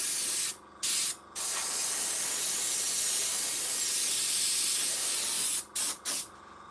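An airbrush sprays paint onto bright green foliage on a model railway, a steady close hiss running almost without pause, broken only by a few short gaps near the start and end.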